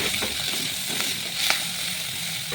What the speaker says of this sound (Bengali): এই কড়াইয়ে পেঁয়াজ, তার সঙ্গে চিংড়ি মাছ দিয়ে দেওয়া হলো।